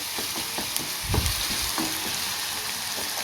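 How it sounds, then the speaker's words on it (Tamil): Onions sauté in hot oil with salt for a potato evening snack, a close, busy sizzle broken by a few soft stirring scrapes and knocks, steady throughout with no voices. "நல்லா வதக்கி எடுத்துருவோம்"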